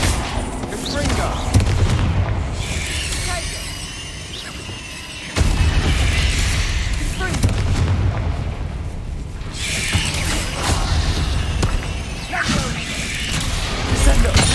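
Fire-blast spell explosions and combat effects in Hogwarts Legacy, bursts and booms recurring through a dense, loud mix of battle sounds with no voices.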